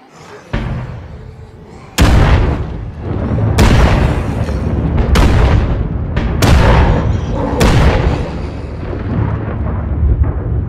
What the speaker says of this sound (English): I'm gonna want you to lay down some mortar fire in a minute